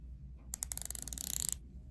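A scalloped bezel on an Omega 300 watch being turned, giving a close, rapid run of crisp ratcheting clicks that lasts about a second, with no talk.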